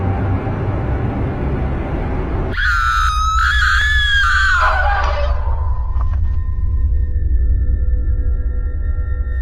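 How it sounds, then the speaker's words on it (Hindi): A person in a cartoon screams outside while attacked by a wolf: a loud wavering high scream cuts in over a low rumbling bed, holds for a couple of seconds, then fades into faint lingering tones. "बाहर से किसी के चिल्लाने की तो आवाज आ रही है"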